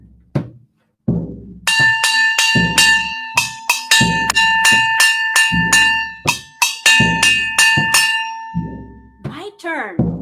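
A metal gong or bell is struck in a children's home percussion lesson, ringing out in a quick run of bright, resonant clangs, with brief spoken counting before and after.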